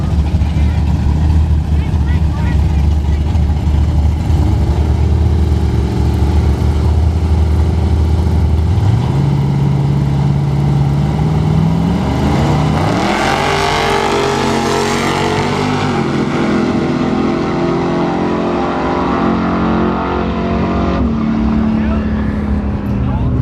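A drag race at Newport Raceway pits an OLS Chevy truck against a nitrous S10: loud engines idle, then roar and rev hard as the vehicles launch and pass, with an announcer talking over the din.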